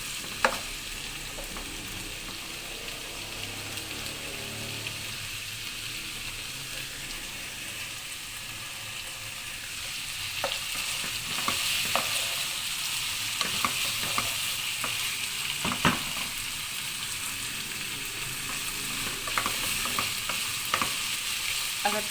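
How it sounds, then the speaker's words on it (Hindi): Vegetables and spaghetti frying and being stirred in a pan for egg noodles, a steady close sizzle throughout with occasional clinks and scrapes of stirring growing busier in the second half; no talking. "सब्जियां फ्राई हो जाएंगी, फिर हम इसके साथ स्पैगेटी फ्राई करके तैयार हो जाएगी"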